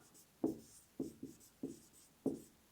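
Pen or chalk writing Hindi text during a physics lesson on alternating current: short scratchy strokes in an irregular rhythm, six or so distinct bursts, close and quiet with no talk.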